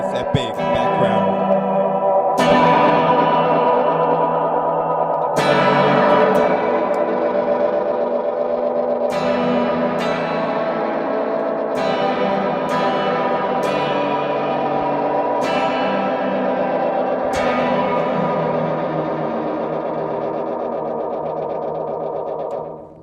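Guitar played through a Paradox Effects pedal, producing a sustained, heavily effected sound with distortion, chorus and echo; plucked chords ring out repeatedly over a continuous wash of tone, with no talking.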